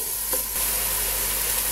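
Chicken cooking in a pan with onion, tomato, garlic and sauce gives a loud, steady, close sizzle with a brief stirring scrape near the start.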